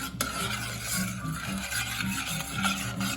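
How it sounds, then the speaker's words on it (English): Sugar, salt and melting butter are stirred in a pan over medium-low heat, giving a steady, close scraping and rubbing with repeated rhythmic strokes and no talking. "Stirring it all together like so."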